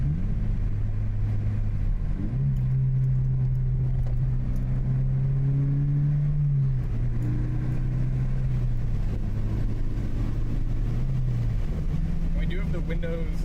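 Low, steady exhaust drone from a Scion FR-S with a Supertrapp WaveTech muffler cruising in sixth gear at about 80 km/h, fairly quiet inside the cabin, with someone talking over it throughout.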